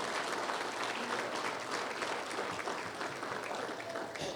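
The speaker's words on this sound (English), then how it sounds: "so let's give them a warm round of applause" Dense, steady applause from a banquet audience honoring athletics hall of fame members at RPI, a sustained wash of many hands clapping at moderate distance with no pause.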